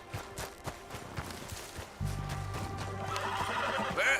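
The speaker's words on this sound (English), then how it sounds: "Where's that horse got to?" A horse in the Red Dead Redemption 2 video game snorts and clip-clops a few times, then lets out a loud, sustained whinny that swells toward the end; no talking.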